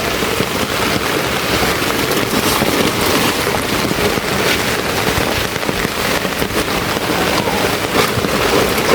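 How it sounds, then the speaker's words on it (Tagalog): Heavy, unceasing typhoon rain pours down loud and close, a dense continuous roar with crackling patter and no talking. "Grabe, walang tigil yung yung ulan gawa nung bagyo."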